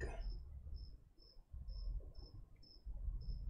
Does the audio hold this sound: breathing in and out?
no